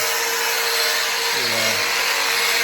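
A worker in a shop polishes car downpipes, and the buffing makes a continuous, close, gritty rushing sound with a brief low grinding dip partway through.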